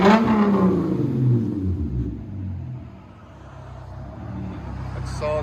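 2016 Hyundai Genesis Coupe with a 3.8 engine, a loud rev that falls away into a low rumbling settle and then a steadier idle, heard close up with some indistinct voices over it.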